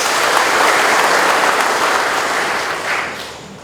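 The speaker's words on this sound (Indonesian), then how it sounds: "Tepuk tangan untuk kita semua." A crowd claps loudly and continuously at an outdoor morning assembly of a government law agency, a broad wash of applause that slowly thins out toward the end.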